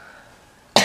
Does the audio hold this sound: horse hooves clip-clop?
no